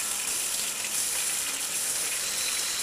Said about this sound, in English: and put water,